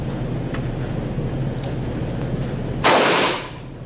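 A single sharp gunshot from a snub nose revolver held in a Ransom Rest at a shooting range, one loud crack near the end with a short decaying tail over low background noise.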